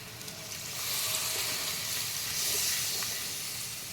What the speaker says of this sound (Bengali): এবার আর একটু কষিয়ে নিয়ে একটু উষ্ণ গরম জল দিয়ে দিচ্ছি